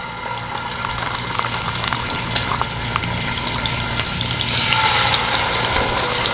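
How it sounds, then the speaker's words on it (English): Chicken pieces sizzle and crackle as they fry in a pan over an off-grid cooking setup, a steady dense hiss with scattered pops that swells slightly louder near the end, no talking. "Now we're going to fry them until they're golden brown on both sides"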